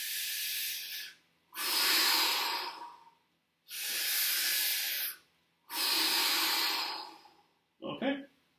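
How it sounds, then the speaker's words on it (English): Slow deep belly breathing: four long, loud, airy breaths in and out follow one another with brief pauses, close to the microphone, and a short voiced sound comes at the end. "Now what's happening is I'm inhaling, exhaling, inhaling,"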